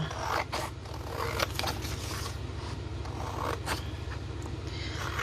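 Scissors snip and scrape through paper around a botanical specimen in a craft project, a quiet close run of short cutting and rustling sounds with no talking.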